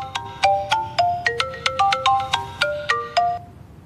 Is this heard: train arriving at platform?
no